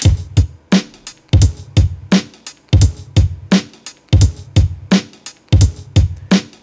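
A dry, punchy boom bap drum beat from an MPC One repeating steadily, kick and snare hits sharp and clear with no compression or reverb, each hit decaying quickly into silence.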